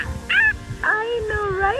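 A puppy whimpers at a lake, with high, wavering whines in short repeated bursts, close to the microphone, while people talk softly nearby.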